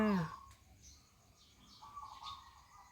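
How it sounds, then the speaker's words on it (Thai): A loud bird call opens, then softer chirps and warbling phrases follow against a quiet outdoor background on a cold, foggy morning in Ko Kha, Lampang, Thailand. "ฟังเสียงนกร้องนะคะ"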